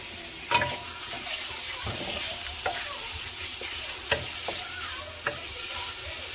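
Ground pork giniling sizzles steadily in a pan for a homemade breakfast, with a few sharp scrapes and knocks of a stirring utensil at irregular intervals, close up and with no one talking.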